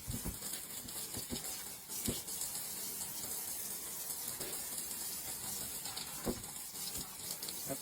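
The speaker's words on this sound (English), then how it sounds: "after you do a good rinse on everything" Water running from a sink tap while a deer skull is rinsed for a European mount, a continuous splashing gush with scattered knocks and bumps, close and steady throughout.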